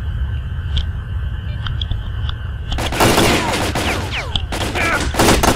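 Rifle fire in S.T.A.L.K.E.R. Call of Pripyat: quiet ambience with faint clicks, then a sudden loud burst of rapid gunshots close up, a brief pause and more shots.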